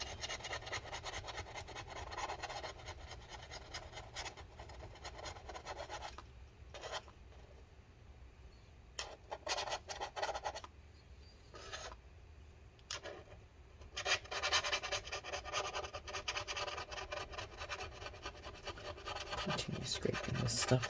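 A tool scrapes sticky foam adhesive inside a 2012 15-inch MacBook Pro A1398 during a battery replacement, giving quiet, close, irregular scratching and rasping strokes in bursts with short pauses.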